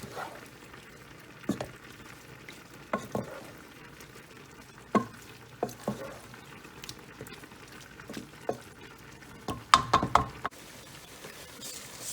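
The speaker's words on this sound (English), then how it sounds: "Give it all a good stir around." Creamy tomato shrimp rotini is stirred in a pan, with intermittent knocks and scrapes of a utensil against the pan over a low bubbling simmer.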